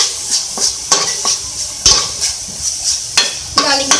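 A spoon stirs a white sauce mixture for chicken cutlets in a metal pan, scraping and clinking in a fairly loud, uneven rhythm with a faint sizzle underneath.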